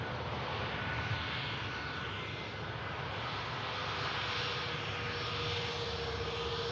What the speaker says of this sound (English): Aircraft about to make the rapid exit.